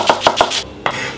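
A knife chops a red onion on a cutting board in four crisp, evenly spaced strokes, close and loud, followed by a brief pause, with no talk.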